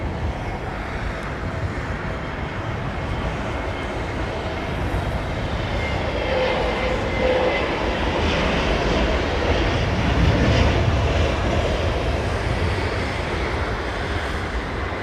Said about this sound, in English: Qatar 350-1000, fourth to land